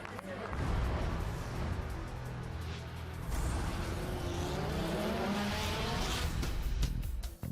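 DTM race cars lining up on the grid at Spielberg, Austria, with engines running and revving throughout under steady commentary.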